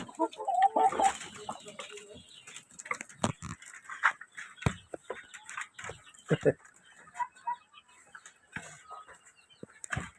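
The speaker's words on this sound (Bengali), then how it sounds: "তবে তারা খুবই খাড়াখাড়ি খাড়ি খাচ্ছে" Layer hens feed on leftover soaked rice, with scattered clucks and soft calls over a busy patter of pecking and shuffling, fairly close and of moderate loudness.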